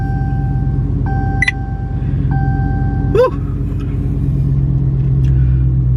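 A Dodge Charger Scat Pack starts up on a hot day. Two soft chimes sound from the cabin, then the starter catches with a brief bark. A low, steady engine rumble follows and grows heavier at idle, and one person sighs.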